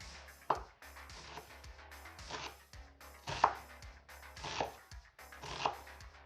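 Knife slicing organic supermarket onions on a cutting board for lasagna, a series of about six distinct close chops at an unhurried, slightly irregular pace, with soft board knocks between and no talking.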